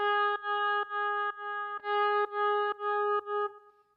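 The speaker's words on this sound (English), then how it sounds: "I'm using the Native Instruments stock guitar sound" A stock Native Instruments MIDI guitar patch with the arpeggiator switched off plays steady sustained tones, about eight evenly spaced repeated notes with a bright, processed, slightly echoing timbre that fades out at the end.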